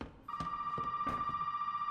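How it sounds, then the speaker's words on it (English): A telephone rings steadily in Resident Evil 7, a sustained electronic tone with regular pulsing beats, fairly quiet and alone. "Phone, it's over there."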